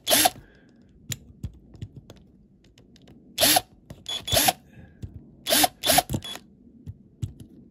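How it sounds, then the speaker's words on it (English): A drill whirs in short, loud bursts, grinding off plastic light pieces from the roof of a Matchbox Jaguar XJ12 model car, with quiet pauses and small clicks between bursts. "It's quicker to use a drill."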